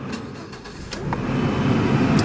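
A 2008 Mazda3 car's engine turns over and settles into running, a steady close mechanical rumble that grows slightly louder, with a few faint clicks on top and no voices.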